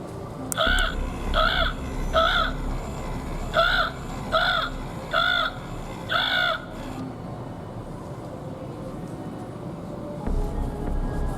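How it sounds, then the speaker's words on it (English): An animatronic raven Halloween decoration in a Michaels store gives seven harsh, evenly spaced caws in a row, loud and close over faint store background, then falls silent. "What does this raven do?"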